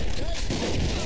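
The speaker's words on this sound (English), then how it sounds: "Yeah, my shotgun." A shotgun blast in the Mafia II video game, a short, loud burst of dense noise that fills the whole moment, with a voice speaking faintly under it.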